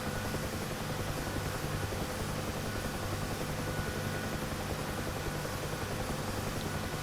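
UH-1H Huey helicopter hovering in a DCS flight simulator, a steady dense rotor and turbine drone with a continuous low thumping beat, loud and unbroken throughout with no talk.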